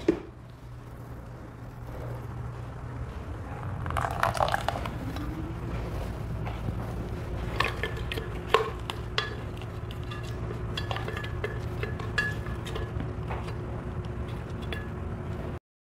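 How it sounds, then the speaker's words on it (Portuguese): Carrot cake batter is folded gently by hand in a bowl, a soft steady wet stirring with occasional light clinks of utensil against the bowl, no speech. "Você não vai bater mais, você só vai misturar delicadamente."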